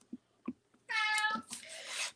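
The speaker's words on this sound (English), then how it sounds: "That's my cat, Fat Boy." A cat called Fat Boy meows in a long, drawn-out call, then gives a second rougher one right after. It sounds close and clear. A few soft taps and handling noises come before it in a quiet room where someone is scoring paper for a card.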